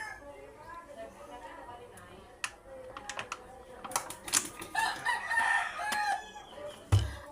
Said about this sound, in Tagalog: iyan yung manok